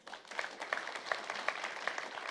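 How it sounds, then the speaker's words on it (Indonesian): A church congregation at a GBI Daan Mogot service gives a short round of applause, light rapid claps heard faintly from a distance with no talking. "Tepuk tangan dulu."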